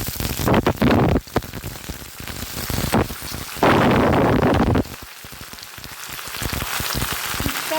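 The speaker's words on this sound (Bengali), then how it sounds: "আলু মোটামুটি একটু ভাজা ভাজা হয়ে গেছে, এবারে শিম আর বেগুন দিয়ে দেবো।" Potatoes, flat beans and eggplant frying in hot oil for a vegetable curry, giving a loud, steady hiss and crackle close up that surges louder in bursts as food is added and stirred.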